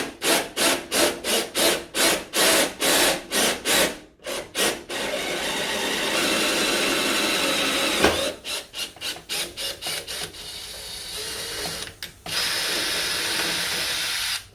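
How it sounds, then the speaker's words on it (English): A power driver spins a combined drill bit and thread tap into a workpiece, grinding in rapid repeated bursts, then a long steady run and more short pulses, loud and close with no talking. "So we're going to pop this in our driver and start drilling."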